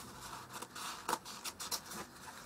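A few soft snips of scissors cutting a flower made of masking tape and newspaper off a craft piece, quiet and close, spaced irregularly over a faint background hiss.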